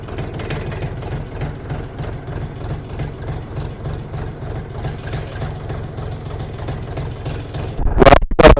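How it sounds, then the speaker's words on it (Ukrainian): A DTZ 5244HPX mini tractor engine runs in low first gear on rough terrain, a steady close chugging with an even rhythm that swells into a louder burst near the end. "Давайте навіть зробимо понижену першу передачу."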